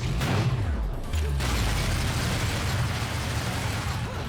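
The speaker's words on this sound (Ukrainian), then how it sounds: "Вибухи почались." Loud, dense blasts and bursts roll continuously, with booming low rumble filling the whole stretch, explosions going off back to back in the video game Bayonetta.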